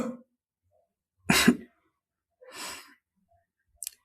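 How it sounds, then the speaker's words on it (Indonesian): A woman in an ASMR roleplay gives a few close, dry coughs, each one separate from the next, with quiet pauses between them and a short final cough. "aku batuk."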